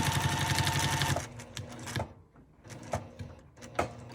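A sewing machine stitches along a seam line on a scrappy quilted mug rug, whirring in a fast, even run for about a second, then giving a few short, separate bursts of stitching after pauses, close and fairly quiet.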